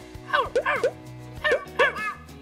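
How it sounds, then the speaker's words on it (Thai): A dog gives several yapping barks in two quick pairs, close and fairly loud, with short pauses between bursts and faint background noise. "หมาเห่าเห่าเป็นแล้ว หมา หมาเห่า"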